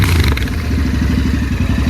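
Royal Enfield Interceptor 650 twin with its stock exhaust removed, idling loud and close with a rapid, rough, uneven thumping pulse and a clattery mechanical rasp that holds steady throughout.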